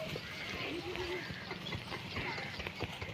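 Donkey hooves clip-clop on the road while the animal pulls a loaded cart stuck in a tight spot, steady rapid steps close by with people talking over them.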